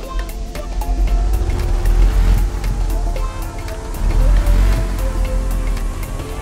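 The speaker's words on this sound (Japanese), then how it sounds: "空ぶかしの時点でかなり回転の上昇が遅いのがわかります。" In the video game Stormworks, a modular engine free-revs with its speed climbing slowly, giving a deep, rough rumble with noisy texture that swells in two surges, and no speech.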